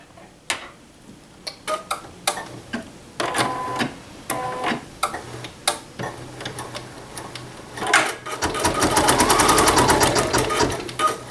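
Embroidery sewing machine stitching a holly design ticks and clacks in irregular bursts, then speeds into a dense, rapid whirring run near the end, close and alone.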